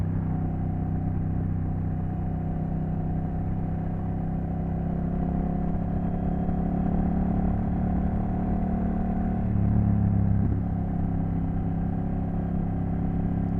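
A Honda Rebel 1100 cruiser fitted with mini ape-hanger bars rides along bumpy backroads, its engine a steady, low droning hum that barely changes, with a brief thump of a bump partway through.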